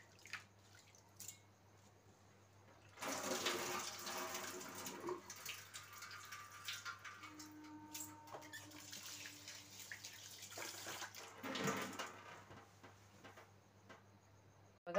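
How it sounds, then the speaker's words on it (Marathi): Rice is washed by hand in water in a home kitchen, giving soft sloshing, rubbing and trickling sounds in quiet bursts, close and fairly faint, with no talk. "बघा मी स्वच्छ तांदूळ धुवून घेतलेले आहे."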